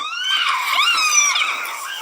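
Apes screaming during an attack on rival chimpanzees, a close, loud chorus of overlapping high-pitched shrieks and wails lasting about two seconds.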